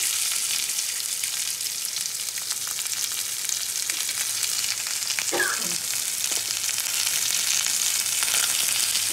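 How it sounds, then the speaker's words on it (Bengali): Mango pieces fry with salt and turmeric for a chutney, giving a steady, close hiss of sizzling oil throughout with a brief stirring scrape near the middle. "আমটাকে খুব ভালো করে ভেজে দেবো"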